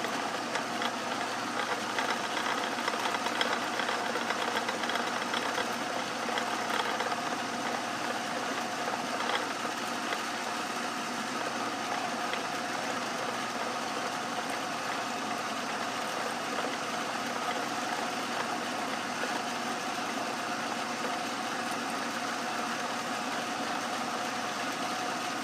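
An Atlas 10-inch lathe runs steadily while centering and facing a part with a tailstock turret tool, a continuous mechanical whir and hum that stays level throughout.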